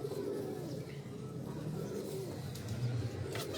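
A Ferozpuri pigeon raising a chick gives low, soft cooing close by, with a few faint chirps and rustles at the end.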